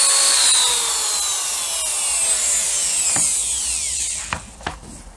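A Parkside PFBS 160 B2 precision drill-grinder whines at high pitch while winding down steadily, followed by a few short clicks and knocks near the end, close and loud with no voices.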